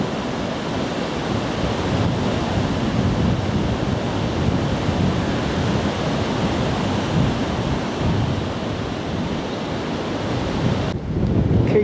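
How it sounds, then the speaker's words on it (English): Very strong wind buffets the microphone on a countryside walk between Hassocks and Brighton, a loud, constant roaring rush that barely lets up, with a brief dip and thump near the end. "in spite of the very strong wind."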